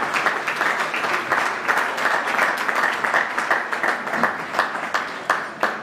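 An audience at a jubilee gala claps steadily, dense applause filling the room at an even level throughout.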